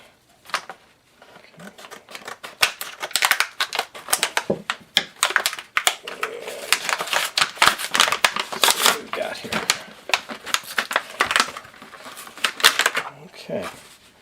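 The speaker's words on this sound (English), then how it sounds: "So let's just open the packaging up." Plastic packaging of a Glock field knife, black with a saw-back blade, being cut and torn open up close, a dense run of sharp crinkling crackles and snips with brief pauses.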